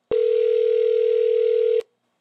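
A single steady telephone tone from a browser phone demo in which one phone calls another, loud and clean, holding for under two seconds and then cutting off sharply into silence.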